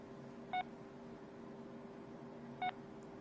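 Two short, clear keypad beeps about two seconds apart sound over a steady low electronic hum as a text message is typed on a phone.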